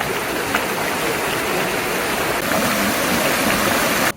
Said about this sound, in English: this obviously is a stream that burst its banks